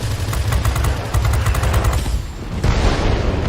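Aircraft machine-gun fire in the World of Warplanes video game while downing a Hurricane fighter, dense rapid bursts of shots over engine roar, loud and continuous with a short dip before firing resumes.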